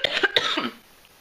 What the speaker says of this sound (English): That's my cough from sickness.